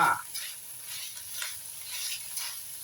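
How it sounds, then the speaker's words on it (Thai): Minced pork for a Thai jaew bong chili paste is stir-fried in a pan, giving a faint, steady sizzle with soft scraping stirs. "ผัดให้หมูมันสุกก่อนนะคะ"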